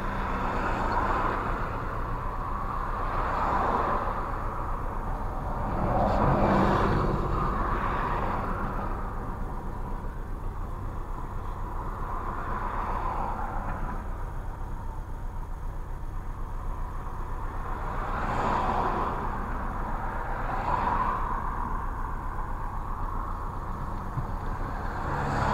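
A Peugeot 405 drives through traffic toward a petrol station, its steady low engine and road rumble heard from inside the cabin, with a few gentle swells in intensity and no talking.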